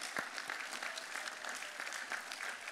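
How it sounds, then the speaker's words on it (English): Steady, fairly quiet applause from a large audience at a university graduation ceremony, a continuous wash of claps without speech. "We would like to give all of you our heartfelt applause"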